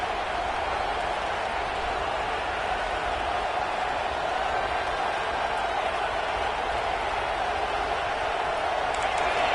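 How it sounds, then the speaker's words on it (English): A big stadium crowd at a college football game, Penn State at Ohio State, roaring continuously from a distance, a steady wash of cheering and noise that never lets up, with no clear nearby voices. "this crowd is fired up. Listen to this noise here."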